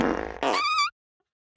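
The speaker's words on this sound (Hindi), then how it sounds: "आपको अपना फोन लेना है, अपनी गांड के बाजू में रखना है और जोर से पादना है।" A loud fart made right beside a phone, one long rasping burst with a brief squeaky tail, then silence.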